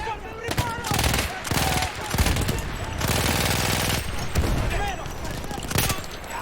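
Rapid gunfire in the World War I shooter Battlefield 1 during an Italian campaign mission, dense bursts of shots, machine guns included, crackling loudly throughout over a busy battle bed, with a voice talking.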